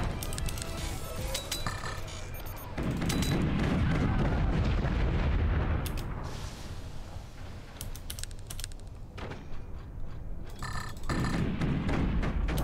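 Swarm missiles launching in the strategy game Forts, a dense run of rapid clicking and crackling launches over a sustained low rumble of explosions, with loud bursts and sharp clinks scattered throughout.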